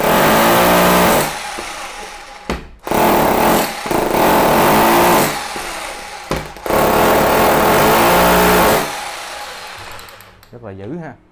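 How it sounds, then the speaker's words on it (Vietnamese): A Bosch hammer drill in concrete-drilling mode gives several loud, rough bursts of whirring and hammering with short gaps between them, and a voice comes in near the end as the tool winds down. "Chức năng khoan bê tông của nó rất là mạnh nha anh em."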